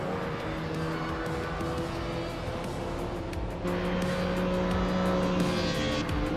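A 2013 Toyota Crown Athlete races in a video game, its engine a loud sustained drone with a shift in pitch partway through, joined by tire squeal and other cars over the full stretch.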